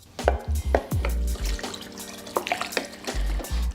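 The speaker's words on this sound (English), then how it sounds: "Now I'm gonna go ahead and add my water." Water poured and splashing into a crockpot of ziti in a home kitchen, in uneven bursts with low gurgling thuds and a brief steady stream, close and fairly loud, with no talking.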